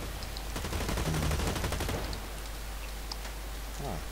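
Rapid gunfire from the shooter game Blacklight rattles in a dense automatic burst for about two seconds, then gives way to a steady hiss with a few faint distant shots.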